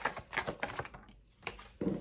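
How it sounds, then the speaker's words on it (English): Tarot cards being shuffled by hand in a quick series of close, crisp riffling bursts, with a short pause in the middle. "some people like knowing that the cards have been shuffled on camera"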